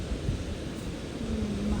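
A steady seaside wind in the shade on a cool afternoon, roaring broadly and continuously against the microphone, close and fairly loud throughout with no distinct breaks.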